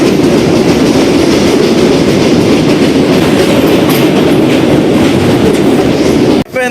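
A train rumbles across the Godavari river bridge with a loud, continuous clattering roar of wheels on track heard from on board, ending in an abrupt thump near the close.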